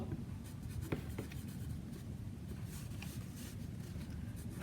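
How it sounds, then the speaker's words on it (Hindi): Pen or pencil writing a note during a cost accounting lesson, steady close scratching strokes over a low background hum, with no talk. "एक नोट लिखते हैं बच्चों।"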